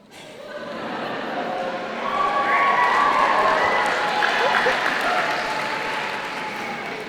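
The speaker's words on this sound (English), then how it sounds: "Please feel free to clap your hands and cheer as loudly as you can." At a Birmingham City University graduation ceremony, a large hall audience breaks into applause and cheering, the roar building quickly and then holding at a full, sustained level before easing slightly.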